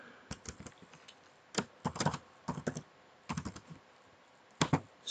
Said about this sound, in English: you just start straight away by typing the patient's name